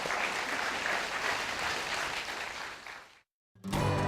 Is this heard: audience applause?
yes